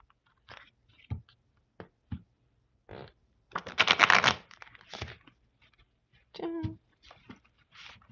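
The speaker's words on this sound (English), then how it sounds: "I'm gonna give her a shuffle." Quick bursts of cards being shuffled and riffled close by, a few short flutters and snaps with pauses between them.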